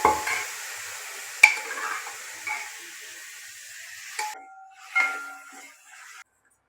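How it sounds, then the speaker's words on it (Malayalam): Cooked beef tipped into a pan of curry, giving a sharp clatter followed by a steady hiss of sizzling and a few scraping stirs of a spoon against the pan, close by and without talking. "അപ്പം നമുക്ക് ഈ ബീഫ് ഇതിലേക്ക് ഇട്ട് കൊടുക്കാം."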